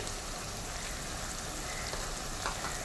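Spice powders such as turmeric and chili powder fry in oil for a fenugreek fish curry, giving a continuous, even, fairly quiet crackling hiss with no pauses.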